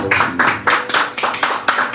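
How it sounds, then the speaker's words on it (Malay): Claps from the audience at a sales event for a colostrum milk product, about nine firm, roughly regular claps over two seconds, close and loud in a reverberant room. "Jadi berikan tepukan."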